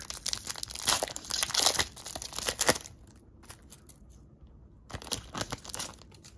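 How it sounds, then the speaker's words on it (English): Foil wrapper of a Pokémon card booster pack crinkles and tears open up close, two bursts of crackling separated by a short quiet pause. "let's open the Enamorous pack."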